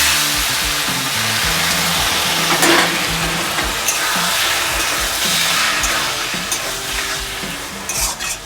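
Sago pearls frying in a small spoonful of ghee, stirred steadily in the pan, giving a continuous close sizzle with scraping and stirring noises throughout and no talking.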